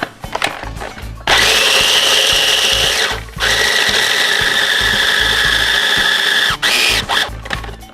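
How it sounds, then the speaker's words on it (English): A food processor grinds two cups of nuts for baklava with a loud, steady mechanical whir that runs nearly the whole time and stops briefly twice, with a rattling start and no talking. "start off by chopping up 2 cups of nuts in your food processor"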